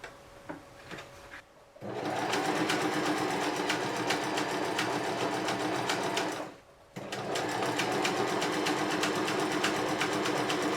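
A sewing machine stitches fabric in two long steady runs, a fast even mechanical whir and clatter up close, broken by a short pause, with light handling noise before it starts.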